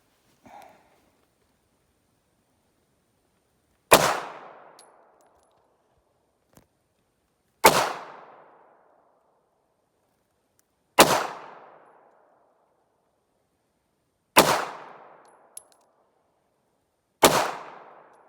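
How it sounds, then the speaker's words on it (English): Five Nambu Type 14 pistol shots fired one at a time at a range, each a sharp loud crack with a short decaying tail, spaced roughly three to four seconds apart with silence between. "we're gonna take 5 shots, then mark them with a pen, and then take another 5 shots with the Luger. Nambu first"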